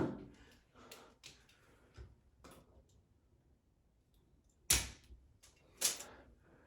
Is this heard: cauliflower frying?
no